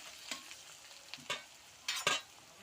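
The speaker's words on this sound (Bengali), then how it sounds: "পেঁয়াজ আর চিকেন একসঙ্গে ভেজে নেবো" Onion and chicken fry together in a pan with a quiet, low sizzle, broken by a few distinct scrapes and stirring strokes that come in short bursts, with no talking.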